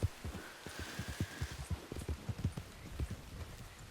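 In the video game Red Dead Online, a horse's hooves clip-clop in a steady walking rhythm, a dull repeated thudding close up with no voices.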